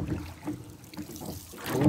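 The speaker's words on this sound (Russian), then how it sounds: "Так, у нас ветер поднимается" Gusty wind buffets the microphone in low, rumbling surges, with faint water lapping underneath, out on a boat at night.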